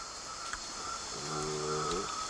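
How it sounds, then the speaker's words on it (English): Low, rhythmic croaking from frogs over a steady buzz of insects and night ambience, fairly close and continuous. "It's kind of funny to hear the frogs croaking while we're eating the frogs."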